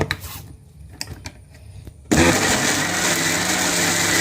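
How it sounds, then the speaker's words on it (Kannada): Soft clattering and tapping, then a mixer grinder starts abruptly with a loud, steady high-pitched whirring roar that runs to the end. "ಅವು ಮಿಕ್ಸಿ ಗರ್ರ ಬಂದ್ಕೊಂಡು"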